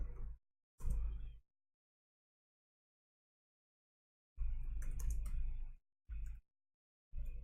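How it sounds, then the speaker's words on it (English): Password typed on a computer keyboard in short bursts of quick clicking keystrokes separated by silent gaps, close and clear. "we're going to type in our password"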